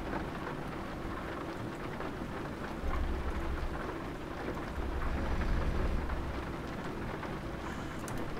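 Heavy rain and rumbling thunder from a storm in the Euro Truck Simulator 2 driving game form a dense, continuous wash, with low thunder swells building twice, no voices.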